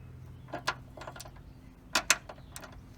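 A ratchet with a 13 mm socket works a bolt loose during power steering pump replacement on a 2006–2012 Chevy Impala, giving several sharp, close clicking bursts in uneven pairs over a quiet background.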